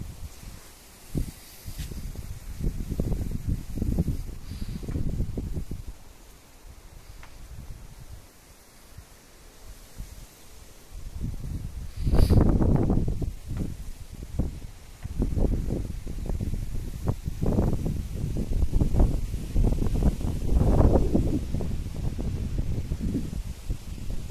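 Wind gusting past the microphone during a motorbike ride toward the Bangladesh border, rumbling in uneven low-pitched bursts that swell and fade throughout, loudest around the middle, with no talking.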